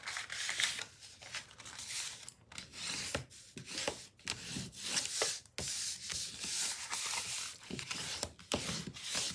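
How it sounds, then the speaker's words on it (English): Paper being burnished along its score lines with a rubbing tool, steady close scraping and rubbing strokes in repeated passes, quiet and unaccompanied by talk. "And we're now burnishing all the score lines."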